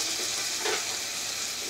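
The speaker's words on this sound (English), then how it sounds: "I'm trying to hold this camera at the same time I'm stirring this pot" Turkey meat being stirred in a sizzling cooking pot for baked beans, a continuous loud frying hiss with a brief scrape of the spoon partway through.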